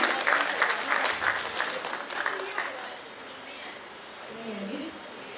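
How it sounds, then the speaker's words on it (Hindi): Loud applause from an audience at a stage event, strongest at the start and tapering off, with voices talking near the end. "सभी के लिए एक साथ फिर से जोरदार तालियां"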